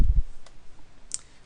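A single sharp key click as W is pressed on a computer keyboard, heard once alone against quiet room tone after a soft low thump at the start.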